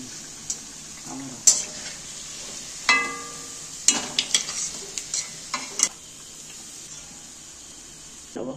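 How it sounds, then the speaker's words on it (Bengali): Palm fruit fritters (taler bora) sizzle faintly in hot oil while a spatula or slotted spoon clinks and scrapes against the pan in scattered, close bursts between quieter stretches. "বাদ বাকিগুলো একইভাবে দিয়ে আমি ভেজে নেব"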